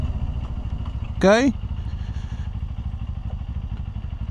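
A QJMotor SRT450RX motorcycle idles close by with a steady, low, rapid throb throughout, while a person briefly speaks over it.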